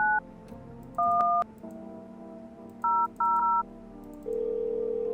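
Touch-tone keypad beeps dial 911 on a phone in the video game No, I'm Not a Human: three distinct DTMF tones with pauses between them, then a steady tone.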